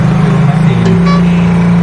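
A car engine struggles with a steady, laboring drone that rises slightly, loud and close, with a voice talking over it.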